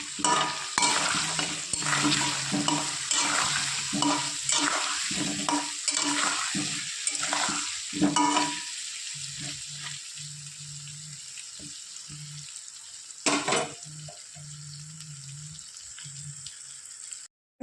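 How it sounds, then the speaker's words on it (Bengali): Potato pieces frying with turmeric and salt for a chicken curry, with repeated scraping and stirring strokes over a steady sizzle for several seconds, then a quieter stretch with a low hum and one more short stir. "আলু ভাজা একটু দিয়ে দেবো পরিমাণ মতো হলুদের গুঁড়ো, আর দিয়ে দেবো একটু লবণ"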